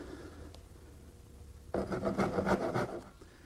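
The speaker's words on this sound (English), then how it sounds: "I like to take my little dovetailing saw and come to each corner and just make a little saw cut" A small dovetail saw makes a short shallow cut into the corner of a wooden quilt rack part, a quiet scrape and then a brisk rasping burst of back-and-forth strokes lasting about a second, close and alone.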